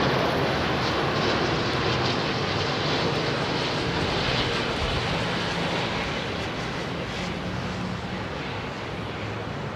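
Boeing 747-400F freighter at London Heathrow with its number one engine spinning up, a loud continuous jet roar and rushing hum filling the air without a break.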